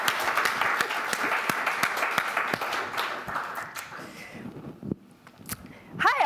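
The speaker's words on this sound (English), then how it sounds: "let's give her a warm round of applause" Applause from a tech meetup audience welcoming a speaker, steady clapping that thins out and fades after a few seconds, leaving scattered claps and a brief voice near the end.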